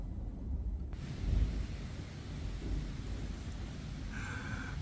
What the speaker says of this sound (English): it's starting to rain and it's thundering as well